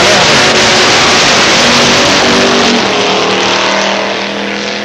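Drag race cars, a 1975 440 Duster and a 1992 Mustang with a 460, roar at full throttle down the strip, a loud, dense, continuous engine blare that fades slightly as they pull away.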